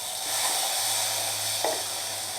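Macaroni sizzling in a kadhai over a medium flame, a steady soft frying hiss throughout with a brief stir or scrape near the end, heard alone without talk.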